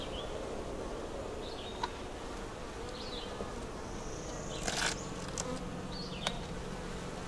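Honey bees buzzing around an open double-deep nuc hive during an inspection, a steady, soft drone with individual bees whizzing past close by now and then.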